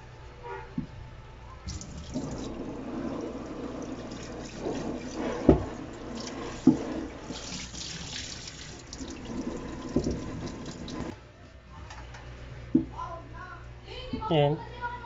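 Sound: running tap water on a milk tea cup

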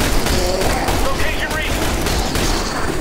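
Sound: gunfire in the video game The Bureau

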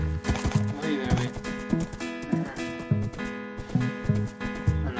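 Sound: horse hooves clip-clopping in the video game Wynncraft

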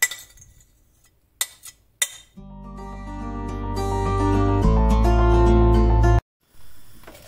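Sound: beating cream cheese and yogurt together in a bowl

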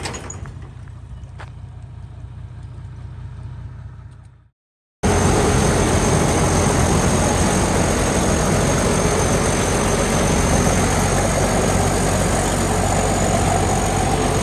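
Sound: ten-wheeler truck engine idling

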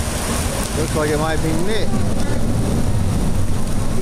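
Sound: pouring rain at I-95 underpass

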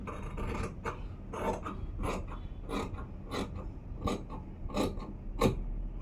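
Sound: cutting fabric for a normal sleeve

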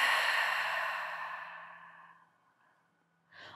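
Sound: exhaling breath during yoga

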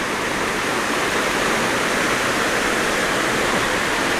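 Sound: Huai Mae Khamin waterfall stream flowing after a storm

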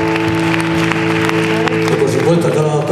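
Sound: theatre audience applause

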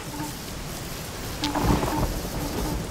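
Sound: rain and thunder in the video game Freak Fortress 2

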